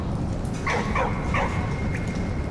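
A dog in the World War I game Valiant Hearts gives a few short yapping barks close by, three quick yips in a row and a fainter one after, over a steady background rumble.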